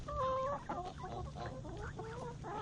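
A hen clucks in a rapid run of sharp, throaty calls while squaring off against a flock of nine geese, close and loud with no voices.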